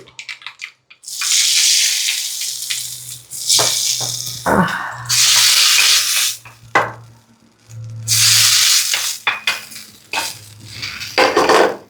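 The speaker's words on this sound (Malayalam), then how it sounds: "കടുക് പൊട്ടി തുടങ്ങിയിട്ടുണ്ട്" Mustard seeds crackle and splutter in hot oil while tempering for a Kerala koottu curry, with bursts of hissing, popping sizzle rising and falling in several waves, steady and fairly loud, with no voices.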